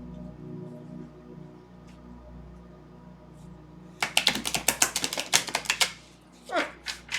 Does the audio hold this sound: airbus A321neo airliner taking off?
no